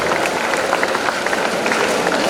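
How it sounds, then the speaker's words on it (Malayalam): Higher secondary school students clap together at a felicitation ceremony honouring top-scoring pupils, a dense, steady patter of many hands filling the room without pause. "നല്ലൊരു കയ്യടി. കൂക്കി ഒച്ച വേണ്ട അല്ലേ, കയ്യടി മതി അല്ലേ."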